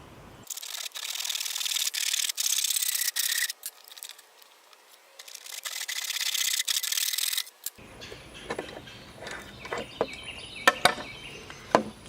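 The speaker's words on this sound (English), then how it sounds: "I'm going to cut halfway through this and then flip it around." A plastic pipe is cut for a DIY worm tower: two long, harsh bursts of steady cutting noise, close and loud, followed by scattered clatter and knocks as the piece is handled.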